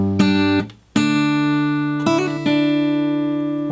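Guitar playing a slow hammer-on pull-off lick from a song, a few plucked notes ringing close and clear, legato notes sliding in between with no other sound.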